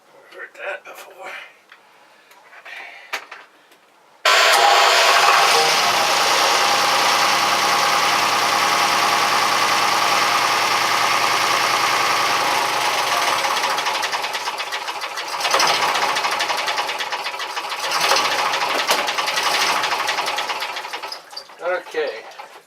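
After a few faint noises, a marine diesel engine on a Fisher 30 boat starts abruptly and runs loud and steady with a rapid, rattling clatter, continuing to the end.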